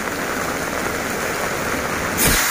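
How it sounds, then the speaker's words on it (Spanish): Heavy rain pours down in Acapulco during Hurricane Nora, a steady dense hiss of drops on surfaces that runs unbroken throughout, swelling briefly louder near the end. "Y en la noche también yo disfruto que llueva bien fuerte,"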